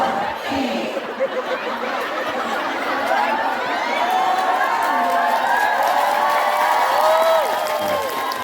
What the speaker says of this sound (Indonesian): Apalagi keplok-keplok sorak-sorak.